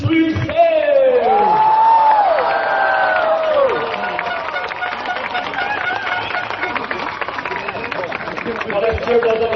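Cheering and applause from a large crowd at a political election rally in an arena, loud and sustained, with whoops, a loud voice calling out over the din and a chanting crowd throughout.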